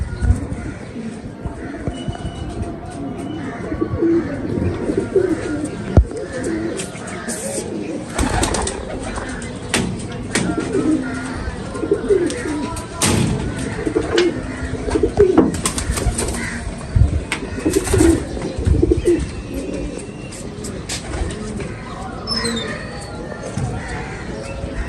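Pigeons cooing in a loft, soft repeated low coos and occasional wing flaps, heard under ongoing conversation between men nearby.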